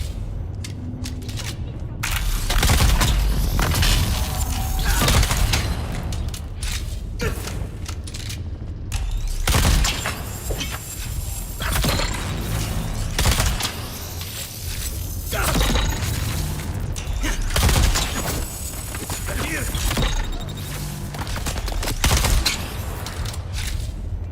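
Dense video game gunfire in Dune Awakening, rapid overlapping shots and impacts running almost continuously over a low rumble, loud and close throughout.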